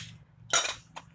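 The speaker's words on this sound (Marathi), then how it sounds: "पितळ्याचा साचा घेतला आहे मी, चकलींचा साचा" A brass chakli mould is handled, giving one bright metallic clink with a short rattle, then a fainter second tap, close and alone.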